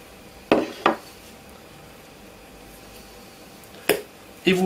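A spoon works through zucchini, ham, cheese and thyme batter in a bowl, heard as four quiet, sharp clinks in two spaced pairs against a soft background.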